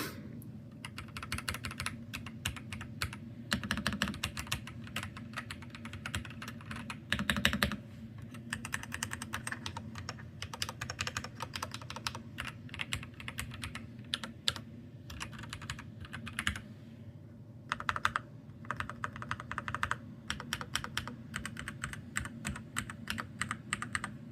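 Steady, rapid typing on a worn, soft membrane keyboard, muffled keystrokes patter on with occasional heavier thumps and brief gaps.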